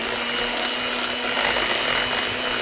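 A steady whirring blend of keto cream puff filling being given one quick mix, a continuous broadband motor drone with a faint tonal hum, even and close, running without pause and with no talk.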